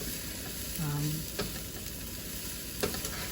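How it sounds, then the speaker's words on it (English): Chicken fried rice ingredients sauté in a pan, a dense continuous sizzle with a couple of clear utensil taps against the pan and a brief low voice sound underneath. "We're just sauteing these. They're just starting to brown up a little bit."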